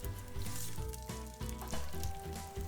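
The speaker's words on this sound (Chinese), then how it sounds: "我们在热锅里放入少许的油，再将切好的蒜和辣椒放进去翻炒一下" Chopped garlic and chili stir-frying in a little hot oil in a wok, a dense steady sizzle with rhythmic scraping from the spatula, close and continuous.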